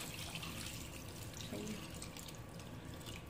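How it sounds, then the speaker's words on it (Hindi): Water pours into a pressure cooker holding spiced beef trotters for paya, a soft continuous splashing stream that stays faint and steady throughout. "अब हम इसमें इतना पानी डालेंगे कि हमारा पाए अच्छे से गल जाएं"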